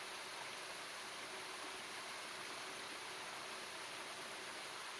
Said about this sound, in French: Laissez-vous porter par le flot de la rivière.